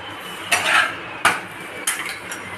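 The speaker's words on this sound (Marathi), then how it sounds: "असे मस्तपैकी आपण दोन्ही साईडनी व्यवस्थित भाजून घेऊया" An aloo paratha roasting in ghee on a pan, with three sharp clanks of a spatula or pan at a steady spacing over a quiet sizzle.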